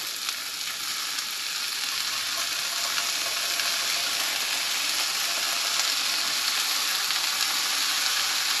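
A pork fillet seasoned with salt and black pepper sizzles in a hot pan, giving a steady, bright crackling hiss at an even level from start to finish with no voices.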